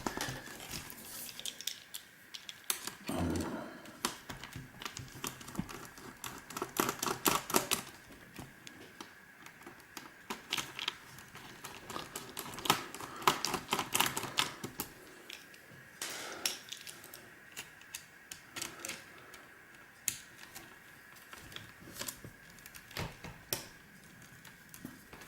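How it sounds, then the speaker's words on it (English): Small screws come out from around a laptop screen, giving faint, scattered clicks, scrapes and ticks of metal and plastic in bursts across a quiet stretch, with no talking. "I'm just removing the screws from around the screen itself"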